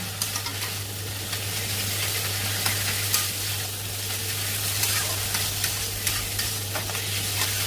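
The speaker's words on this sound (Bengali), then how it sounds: "এটা এবার একটু ধরে ধরে ভাজা ভাজা করতে হবে" Fish oil and green chillies sizzle steadily in a hot pan while a utensil stirs and scrapes through them, a constant close frying hiss with light knocks of the spoon and a low hum underneath.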